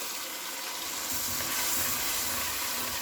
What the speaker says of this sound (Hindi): बाउल को धो के उसका पानी हम इसमें डाल देंगे।